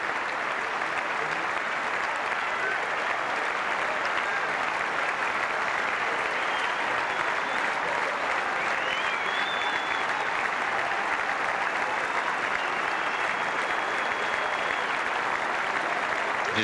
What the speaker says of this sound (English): the crowd getting ready to say their goodbyes to this wonderful man called Stefan Edberg